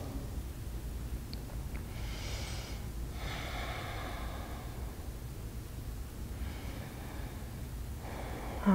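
Slow breathing held through a yoga pose for beginners, with several soft, unhurried inhales and exhales, quiet and close, over a faint background hiss, and no talk.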